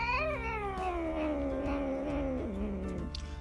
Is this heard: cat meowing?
yes